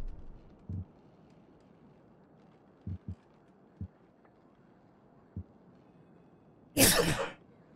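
A single sharp, loud sneeze bursts out near the end, preceded by several soft thumps over quiet background noise in a Ghost Recon Breakpoint gameplay session.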